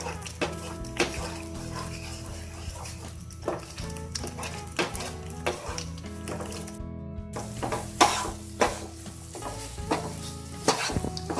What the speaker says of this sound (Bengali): অনবরত এভাবে নাড়তে হবে নাহলে গাজরটা পুড়ে যাবে